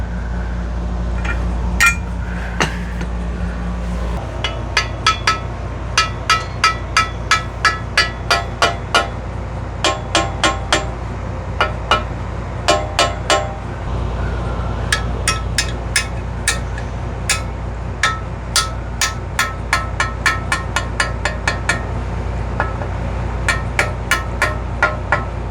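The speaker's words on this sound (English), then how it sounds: "Tap your bearings back in there. Yep. The end of a plastic end of a screwdriver." On a 110 Corvair motor, bearings are tapped into place with the plastic end of a screwdriver. Sharp, light taps come in quick runs with brief gaps between them, over a steady low hum and with no talking.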